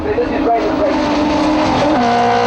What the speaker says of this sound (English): He's got to catch up to Raymond Goebel in the very strange-looking 6-cylinder van